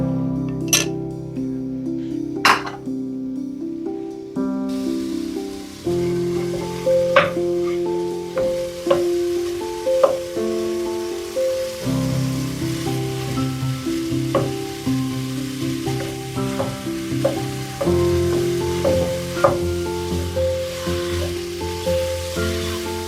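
Beef and pork sizzle steadily as they fry in olive oil for Mexican picadillo, a close, continuous crackle with brief sharp pops and light stirring scrapes throughout.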